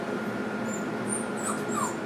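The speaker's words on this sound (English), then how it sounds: "there we go with the little whimper" Sadie, a female dog, gives a soft, thin whimper close by, a faint high whine rising briefly over quiet room hum with no talking.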